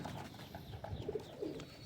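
Khatang pigeons coo softly, a few low, rounded coos heard faintly at close range against a quiet room background, with no voices.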